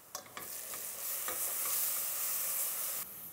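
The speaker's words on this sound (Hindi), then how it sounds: "इसको हम 1 से 2 मिनट तक भूनेंगे।" A paste of cumin, coconut, green chili and garlic sizzles and fries in a pan, a steady close hiss with a few stirring scrapes near the start, no talk.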